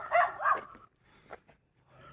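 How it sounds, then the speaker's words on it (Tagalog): Dogs barking along a footpath, a few quick, fairly close barks in the first second, then only faint, scattered sounds. "May mga aso pa naman."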